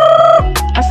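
A turkey hen and her young chicks call in a farmyard: a sustained nasal call drops into short, close clucks and peeps, loud and near with no talking.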